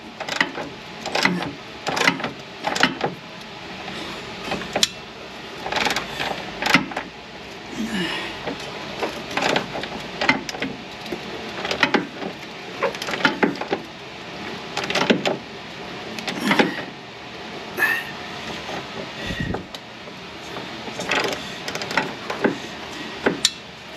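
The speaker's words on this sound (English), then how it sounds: "I'm going to start by just loosening the bolts that hold the A-arm in." Wrench work loosening the bolts that hold a vehicle's A-arm, a series of close ratcheting clicks and short metallic bursts in uneven rhythm, with brief pauses between turns and no speech.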